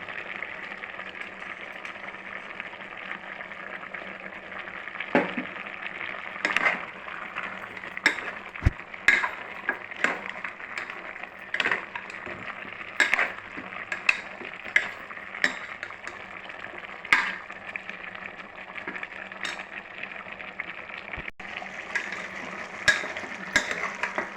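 Masala of chillies and coriander being dry-fried and stirred in a pan for chicken curry. A soft background sizzle runs throughout, under frequent sharp scraping and clinking of the spoon against the pan.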